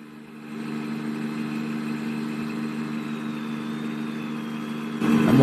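Kenworth T680 truck engine idling in a video game, a steady low rumble with an even hum that holds level throughout, swelling slightly louder at the very end.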